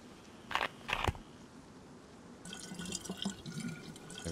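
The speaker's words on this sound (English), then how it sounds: "I also need to fill this water bottle up as well." Water trickling and splashing into a bottle filled at a well in the survival game DayZ, a close steady pour rising in the second half after a couple of short louder splashes.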